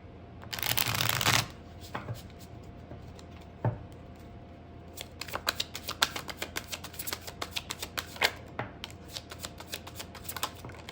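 Tarot cards are shuffled close up, starting with a loud riffling burst, then a single soft slap, followed by a run of light, irregular flicks and taps as the cards are handled.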